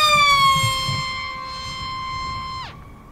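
Sonic Model F1 Racing Wing RC plane making a fast pass down a runway, a loud high-pitched motor whine that falls in pitch as it speeds past and fades, with no talk.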